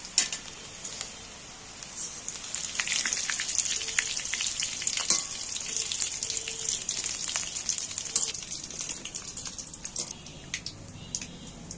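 Fish roe frying in hot oil in a Bengali home kitchen, a steady dense sizzle with crackling pops throughout, fairly close and uninterrupted, with no voices.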